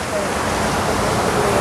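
Broad, steady rush of falling water at the Fort Worth Water Gardens, loud and continuous with no break, filling the scene like a close cascade.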